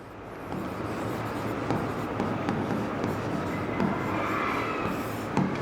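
Chalk or marker writing on a board during a Class 10 maths lecture on polynomials, a continuous scratchy scraping with small taps, close and steady in a room with faint background hum.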